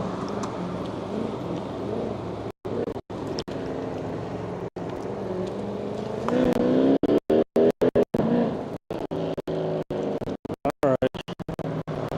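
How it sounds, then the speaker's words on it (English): Car engines rev at a busy outdoor crowd area near the Albuquerque International Balloon Fiesta, a steady rumbling drone with rising revs, heard amid ambient noise and frequent dropouts. "Down there, everybody out there, calm down with all the engine revving. Somebody's revving their engine up there."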